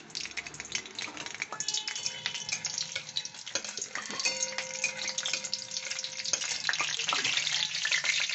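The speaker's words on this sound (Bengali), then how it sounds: "এবার আমি ফোড়নটা দিয়ে দিলাম। এগুলো তেজপাতা, দারচিনি আর শুকনো কাঁচা লঙ্কা।" Bay leaves, cinnamon and dried chilli sizzle in hot oil as a tempering for matar paneer, a steady close crackling fry throughout.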